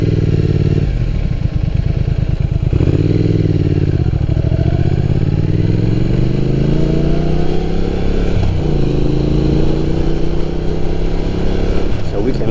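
An Ape 125cc mini motorcycle rides near Lake Miyagase in Japan, its engine droning loudly and steadily throughout with rising and falling revs as it accelerates and shifts, joined by wind noise.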